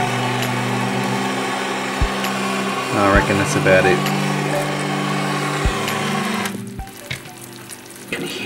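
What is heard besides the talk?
caramelizing sugar cracking and bubbling under blowtorch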